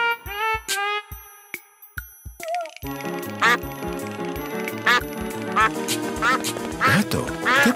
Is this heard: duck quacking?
yes